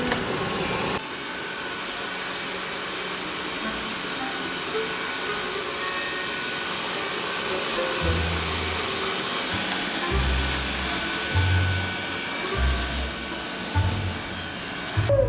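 A robot vacuum cleaner working at home, a steady whirring motor drone with occasional low bumps and rumbles as it moves around, running alone without talk.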